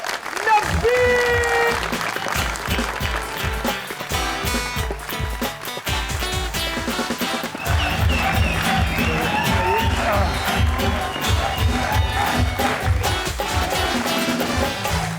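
Studio audience on a Pakistani talk show applauds and cheers to welcome guest Nabeel Zafar onto the stage, a loud, sustained wash of clapping layered over music with a steady beat throughout.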